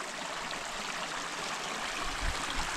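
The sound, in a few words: stream water flowing in Hanaupah canyon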